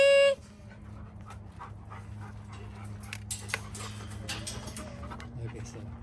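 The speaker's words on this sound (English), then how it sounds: "look at the dogs." Farm dogs pant and whimper nearby in soft, irregular bursts, with light background noise and occasional louder yips toward the end.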